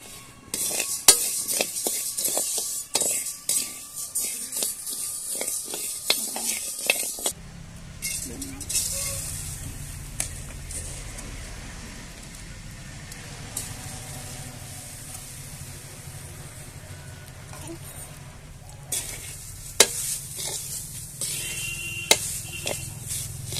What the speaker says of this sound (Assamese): চাউল ভাজি থকা হৈছে